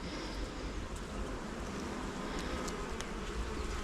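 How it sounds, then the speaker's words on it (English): Honeybees buzz steadily at an opened hive during an inspection of a split box, forming a loud, continuous close-up drone with occasional louder individual bees passing near. "Very calm bees."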